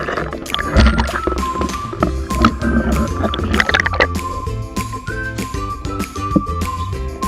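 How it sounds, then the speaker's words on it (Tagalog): A motorboat passes overhead while heard from underwater during a dive, a loud, steady low rumble with a whining engine tone, gurgling water and bubbles. "may motor na dumaan mga idol sa ilalim ng tubig"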